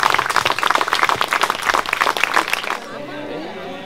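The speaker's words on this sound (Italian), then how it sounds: "Vorrei fare un applauso appunto a tutte queste persone" A crowd at a village festival for Santa Eurosia breaks into dense, lively applause that lasts nearly three seconds, then stops abruptly, leaving a quieter background with a voice.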